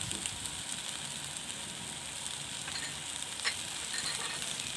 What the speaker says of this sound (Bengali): ভেজে রাখা পটল আর আলু দিয়ে দিয়েছি, এবার চিংড়িটাও দিয়ে দিচ্ছি। এবার ভালো করে কষে নেব।